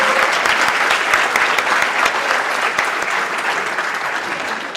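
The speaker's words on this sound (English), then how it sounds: "can everyone give them another round of applause?" An audience at a live Muslim–atheist debate gives a round of applause. The dense clapping is loud and continuous throughout and slowly eases toward the end.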